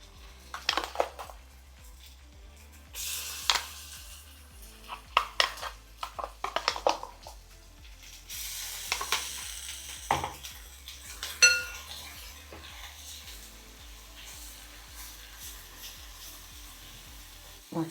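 Ground masala paste for egg curry being fried in a pan, with scattered clinks and scrapes of a utensil against the pan over a low, steady sizzle, all without voices.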